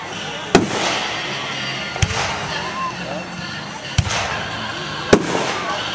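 Fireworks show on a July evening in Pepperell, Massachusetts: four sharp, loud bursts spaced about every one to two seconds, each trailing a crackling rumble, with a crowd murmuring and talking in the background.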